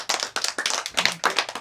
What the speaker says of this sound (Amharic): ቁሙና አጨብጭቡ